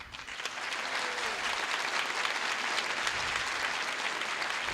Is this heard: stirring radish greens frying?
no